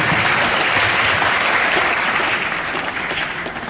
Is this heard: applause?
yes